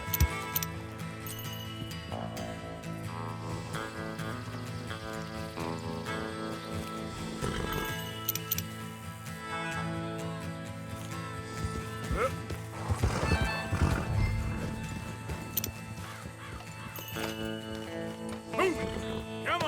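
Horses neigh and hooves thud in the Red Dead Redemption 2 video game, partly buried under a steady music score, with a louder surge of hoofbeats and commotion near the middle.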